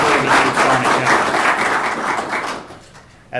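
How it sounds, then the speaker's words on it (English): Sustained applause from a county commission meeting audience, steady clapping that gradually fades out toward the end. "a big round of applause for everybody again for their years of service"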